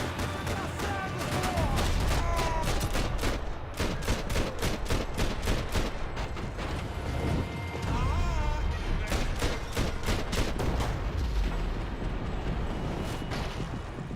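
Dense, continuous gunfire and explosions from the video game Max Payne 3, loud rapid bursts packed tightly together with booming blasts, sustained without pause across the whole stretch.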